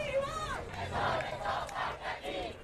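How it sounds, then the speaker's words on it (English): A protest crowd cheers and shouts together, many voices rising and falling in a muffled, distant roar at low volume. "These are the people who are cheering on this action."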